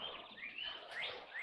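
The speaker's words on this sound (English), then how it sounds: "so these are my quail" Quail kept six to a cage across three cages, giving faint, quick high chirps with several short calls overlapping in a brief, quiet stretch.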